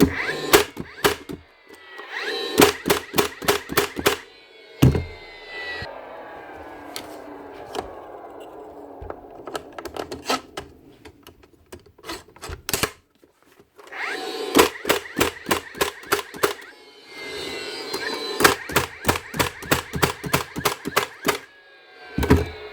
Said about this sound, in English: the Dewalt gun does fire when empty